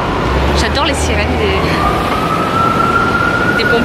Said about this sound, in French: J'adore les sirènes